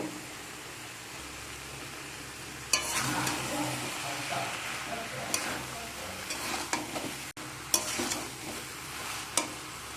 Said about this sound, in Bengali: আমি আরও যেসব সবজি ভেজে রেখেছিলাম সেগুলো একসাথে দিয়ে দেব দিয়ে সব কিছুকে আবারও কষিয়ে নেব